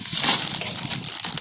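A plastic gift bag from a toy store crinkles and rustles continuously up close, fairly loud for about a second and a half, with no voices.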